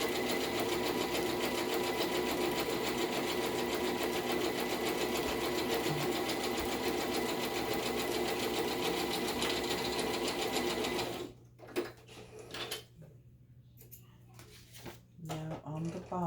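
A sewing machine stitches a pocket-side envelope, its motor whirring loud and continuous for about eleven seconds before it stops. Quieter scattered clicks and a voice follow.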